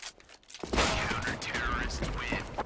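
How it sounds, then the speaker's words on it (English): A Counter-Strike: Global Offensive match with a sharp burst of gunfire and rapid mechanical weapon sounds in quick succession, loud and dense over ongoing game noise. "But he'll hit an op shot, actually two, regardless."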